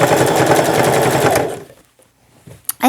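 A sewing machine stitches a t-shirt hem in a fast, close, steady run of rhythmic needle strokes that stops abruptly halfway, followed by near silence and a couple of small clicks.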